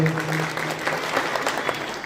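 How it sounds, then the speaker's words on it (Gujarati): An audience at a Gujarati farmers' gathering applauds to welcome speaker Paresh Goswami. The clapping is dense and fairly loud, and it carries on steadily for the whole moment. "આપણે પરેશભાઈને ફરી એક વખત તાળીઓના ગડગડાટથી વધાવી લેવું"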